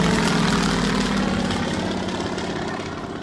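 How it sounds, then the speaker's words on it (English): A Yak-52 aerobatic aircraft's piston engine and propeller drone steadily at an air display, a loud, rough low roar that slowly fades slightly as the plane moves along the display line. "Just doing a half Cuban there, so he's done the loop again, but this time rolls the aircraft upright and brings it down the display line."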